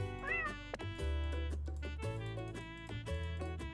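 A pet cat meows in the mobile game 작살난다냥, played on a PC. One short rising-and-falling meow stands out near the start over a loud, pulsing game music loop with thumping bass.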